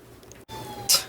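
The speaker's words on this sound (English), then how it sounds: "now you guys can hear the baby crying." A brief, high-pitched cry rises near the end of a short stretch of low room noise, like an infant wailing somewhere nearby.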